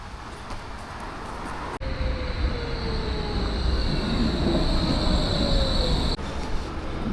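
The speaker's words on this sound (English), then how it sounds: "Just gonna catch the tram and head there now." A tram in Austria rolling along with a steady low rumble, wheels squealing in a drawn-out whine, and a sharp clunk at the start and end.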